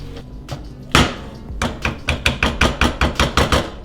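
Warm cooked beans with onions are squished in a pan for chilaquiles, giving a few scattered knocks followed by a quick, even run of about a dozen firm taps, close and loud, with no talking.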